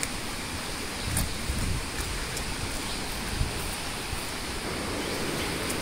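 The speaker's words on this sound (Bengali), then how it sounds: "টিপ টিপ করে বৃষ্টি পড়ছে উপর থেকে। এখান দিয়ে নদীর মতন পানি বয়ে যাচ্ছে।" Light rain falling in a forest while water rushes past like a river, a dense, steady broadband wash of flowing water with faint droplet ticks, continuous and fairly close.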